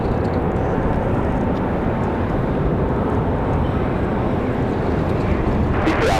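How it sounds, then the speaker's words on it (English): A Mesa Airlines United Express Embraer E175 jet gives off a loud, continuous rumbling roar on a windy day at Raleigh-Durham airport, holding steady throughout with a slight rise near the end. "So we'll see what Mesa Airlines has got, this United Express."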